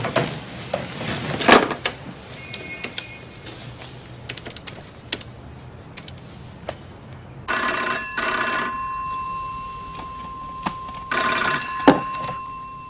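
An old-style telephone bell rings in two bursts late at night in a quiet room, after a few clicks and knocks, with no talk over it.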